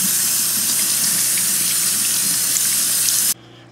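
Cold tap water running steadily to rinse cooked bow tie pasta, a loud, even hissing gush poured close by, cutting off abruptly near the end to near silence.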